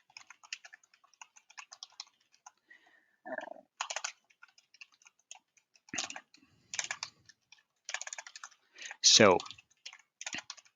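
Computer keyboard typing in bursts of key clicks, close and fairly loud, with a short spoken word and a brief rising vocal sound in between.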